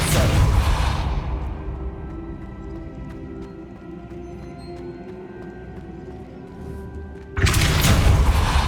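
A Depulso spell cast in Hogwarts Legacy opens with a loud whooshing burst, then a quieter stretch of faint hum and soft taps before a second strong blast surges in near the end, with no voices.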